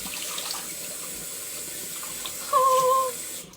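Water runs from a sink tap in a steady hiss while the temperature is being adjusted, with a brief squeak or tonal whine rising over the flow late on before it cuts off.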